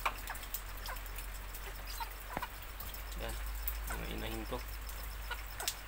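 Pure labuyo (red junglefowl) chickens, one with a head wound, cluck faintly in short scattered bursts, mixed with occasional talk nearby.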